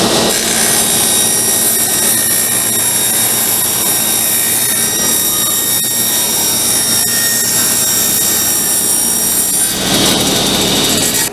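Power saw ripping through cedar boards being cut to length for a blanket chest, a steady loud whining buzz that runs continuously for the whole stretch, with a brief rise in pitch near the end.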